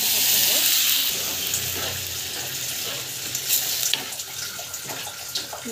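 Food being sautéed and stirred in a pan for a simple home dish, a steady close sizzle with scraping stir sounds and a faint splash of water, no talking.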